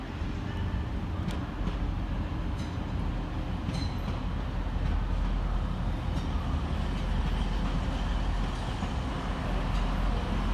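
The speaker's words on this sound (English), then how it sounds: "Arriving to terminate with a Transpennine Express service off of Leeds is" A TransPennine Express train from Leeds arrives to terminate at Manchester Piccadilly with a steady rumble of wheels and engine, moderately loud under station ambience, with faint clicks overhead.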